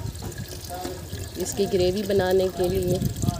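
Water is poured into a simmering white chickpea curry masala in a cooking pot, giving a steady splashing trickle beneath someone speaking Hindi close by.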